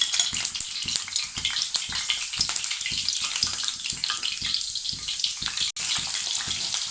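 Green chilies fry in hot oil in a pan, a bright, crackling sizzle running steadily and close throughout, dotted with small pops and spatters, no one speaking.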